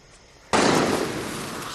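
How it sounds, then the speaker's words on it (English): A single sharp gunshot in Far Cry 6 cracks suddenly out of quiet ambience, followed by a sustained noisy echo that lingers and slowly fades. "gunshot"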